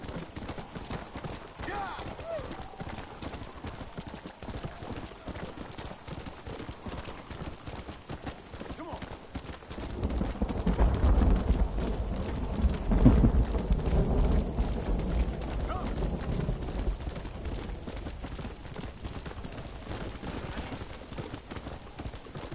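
Horse hooves from riding in Red Dead Redemption on PS4, a rapid steady clip-clop that runs throughout and grows heavier and louder midway, mixed with game rumble and a faint whinny.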